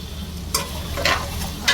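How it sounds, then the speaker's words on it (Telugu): Steady sizzling of potatoes frying in oil, with a few scraping stirs of a utensil in the pan. "ఆలు అయితే మంచిగా వేగిపోయింది ఆయిల్"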